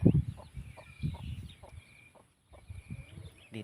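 Hens clucking at close range in a farmyard with laying hens and chicks, a series of short, soft clucks in uneven bursts with a brief pause midway.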